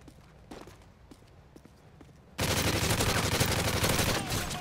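Gunfire in the video game Resistance: scattered faint shots and thuds at first, then a sudden loud, sustained burst of rapid automatic fire that fills the rest of the moment.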